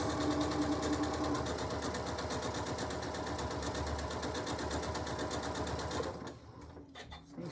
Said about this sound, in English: Give it a couple of back stitches.